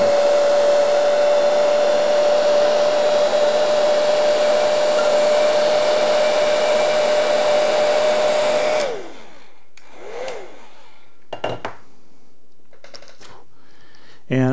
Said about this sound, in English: once the shrink tubing's on here, I want to heat it down, and I want to do it on each side